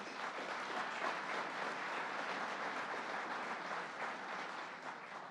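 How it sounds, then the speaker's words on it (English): An audience at a governor's announcement event in Buffalo claps in a sustained, even burst of applause that holds strong for several seconds before easing slightly at the end. "Let's give Governor Cuomo a big round of applause."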